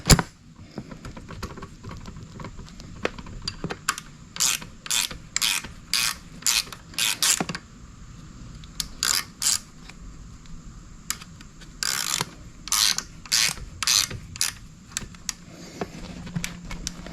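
A hand ratchet backs out the 10 mm kickstart bolt on an ETon 90cc scooter, giving repeated bursts of close, crisp clicking in quick strokes separated by short pauses.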